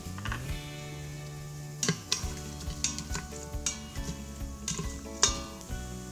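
Vadagam and curry leaves fry in hot oil, a faint sizzle under a sustained hum, broken by several sharp clinks and scrapes of a spoon stirring against the pot.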